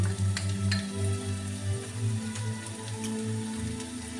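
Garlic and chili sizzle steadily in a hot pan for a lamb and vegetable curry, a close, continuous crackling fry with faint spitting pops and no one talking.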